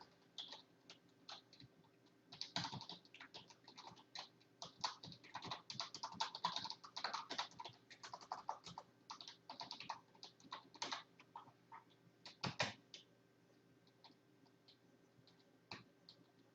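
A URL typed on a computer keyboard, heard as quiet, rapid, uneven clicking of keystrokes in irregular bursts with short pauses, close and alone.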